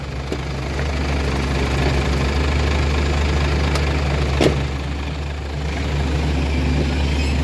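An excavator (backhoe) engine running steadily while being driven, a loud continuous low rumbling drone with a brief clank near the middle.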